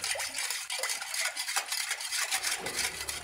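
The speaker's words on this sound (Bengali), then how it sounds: "যতক্ষণ না চিনিটা ভালো করে গুলছে ততক্ষণ পর্যন্ত এটা ফেটিয়ে যেতে হবে এইভাবে" Sugar being whisked into cake batter in a bowl, a steady fast scraping and clinking of the whisk against the bowl, close and continuous with a quick repeating rhythm throughout.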